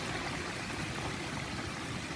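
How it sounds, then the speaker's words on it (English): A whole turkey sizzles as it fries in a pot of hot oil, giving off a steady, dense, close hiss that holds at an even level throughout with no voices. "Look at that thing sizzle."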